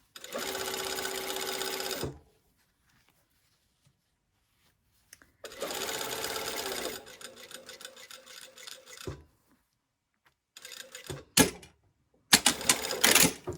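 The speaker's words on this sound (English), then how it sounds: "Sewing this at 5/8 of an inch seam allowance, because that is what seam allowance this pattern has." Sewing machine stitching a lapped zipper seam at a 5/8-inch seam allowance, in close, loud bursts of rapid stitching separated by pauses, ending with short back-stitch runs.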